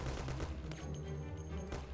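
Gunfire in the video game Mafia: rapid shots pop in a dense burst, fairly loud and close over steady in-game background sound, with no speech.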